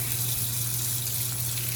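Hot water runs from a kitchen sink tap in a steady, close gush with a low underlying hum, with no talking.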